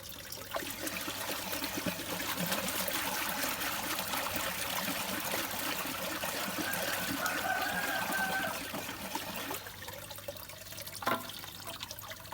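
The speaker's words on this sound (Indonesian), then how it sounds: "Tuang sedikit demi sedikit, kemudian diaduk." pH down solution is poured into hydroponic nutrient water as a faint, steady trickle that runs for several seconds, then eases off, followed by a brief small splash near the end.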